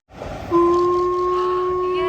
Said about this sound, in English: we were able to get this perfect spot to view the train, which is coming up in 3,